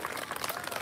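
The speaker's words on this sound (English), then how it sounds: "Please clap your hands for Georgia O'Keeffe." An audience at a school historical march event claps briefly, producing a dense, even patter of applause throughout.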